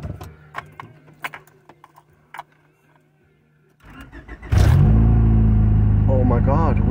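A Honda Prelude with an F22A1 engine, fitted with a new distributor cap and rotor, is heard close up. Faint clicks and key sounds come first, then the engine cranks and catches and settles into a loud, steady, even idle.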